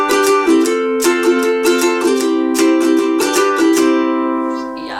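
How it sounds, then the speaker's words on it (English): A ukulele strummed with a thin plastic guitar plectrum rings out bright and loud, each stroke carrying a sharp clicking attack in a steady strumming rhythm, played alone with no voice. "Playing the ukulele with a normal guitar plectrum sounds like this."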